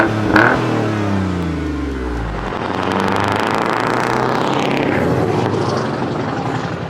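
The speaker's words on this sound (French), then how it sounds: "Vas-y, fais vroom vroom" A Jaguar F-Type's engine revs up hard and roars steadily up close, the loud snarl rising and holding for several seconds.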